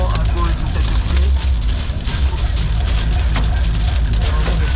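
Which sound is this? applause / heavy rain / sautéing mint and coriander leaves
heavy rain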